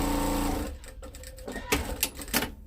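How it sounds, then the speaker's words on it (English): Sewing machine stitching the bottom seam of a fabric tote bag lining, a steady close whir for the first moments, then stopping, followed by a few brief handling clicks and fabric rustles. "to keep it accurate, I'm going to sew the bottom anyway"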